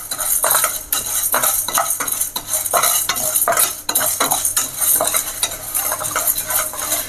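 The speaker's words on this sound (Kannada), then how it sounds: "ಸಿಮ್ಮಲ್ಲೇ ಇಟ್ಕೊಂಡು ಹುರಿರಿ." Chana dal roasting on low flame in a pan, the dry grains rattling as a spoon scrapes and stirs in steady repeated strokes, with clinks of metal and a light sizzle underneath.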